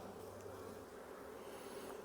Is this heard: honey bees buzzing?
yes